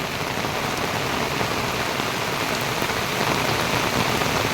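Heavy rain pours steadily beside a Konkan stream, a dense, even hiss of drops on surfaces that stays loud and unbroken throughout, with no voices.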